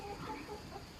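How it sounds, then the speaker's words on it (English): Chickens and a rooster clucking continuously at close range, a loose flock roaming a kitchen garden and pecking at tomatoes, with soft overlapping calls and no voices. "The rooster's out."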